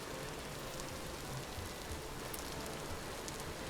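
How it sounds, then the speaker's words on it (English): Rain falls steadily in the video game Vintage Story, a dense, even patter on surfaces that holds constant throughout without any talk. "this rain is just so loud"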